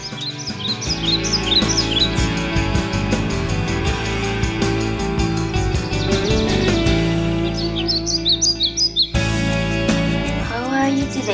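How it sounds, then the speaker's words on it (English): A flock of noisy birds chirping outdoors on a cold fall or winter morning, rapid overlapping tweets and calls over a busy, dense background that cuts abruptly partway and resumes, loud and close. "Birds are so noisy today."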